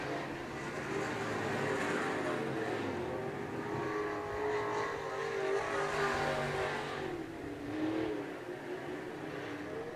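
SportMod race cars circle Interstate Speedway in a dirt-track feature, with engines roaring and revving steadily at mid-distance as the pack drones past and throttle swells rise and fall.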